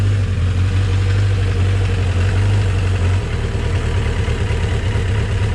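A Kawasaki 1000 Concours motorcycle engine idles steadily on choke, a loud, close, continuous low rumble that drops slightly in pitch partway through and carries on unbroken without talk.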